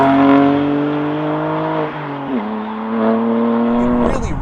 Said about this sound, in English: Listen to the sound that this thing makes. We have the exhaust in the loudest mode possible.